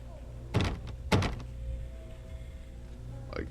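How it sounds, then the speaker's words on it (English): A locked door in a video game amusement park is tried twice in quick succession, two sharp rattling thunks over a low ambient hum, followed by a fainter knock near the end. "I can't open the door."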